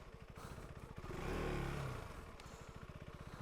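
A motorcycle engine revs during slow riding, a fast-pulsing putter that swells into a brief louder rev and then eases back into a choppy low idle.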